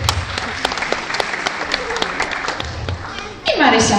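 An audience applauds young children at a school recital, dense, steady clapping filling the room without pause, with a voice breaking in near the end.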